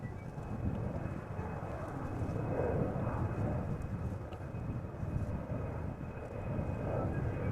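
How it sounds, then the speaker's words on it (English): A KLM Embraer 190, a thirteen-year-old airliner, departs Amsterdam Schiphol with a steady, loud jet engine roar that fills the whole stretch, broad rumbling noise holding constant throughout. "Embraer 190. KLM flight 1641. Thirteen-year-old airplane."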